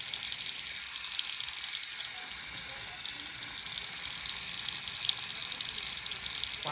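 Water rushes steadily through household plumbing lines into a newly installed electric water heater, making a constant close hiss with a faint high whine and no pauses.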